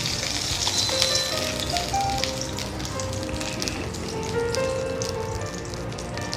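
Two dessert spoons of dalda melt in a hot pan for an egg masala, giving a steady, soft, dense crackling sizzle like light rain that runs evenly throughout.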